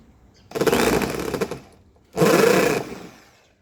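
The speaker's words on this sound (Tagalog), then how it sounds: "itong ginamit ko, ang drill pangbutas dito. Butasan ko na rin siya." An electric drill boring a hole, two whirring bursts of about a second each with a short pause between, close and loud.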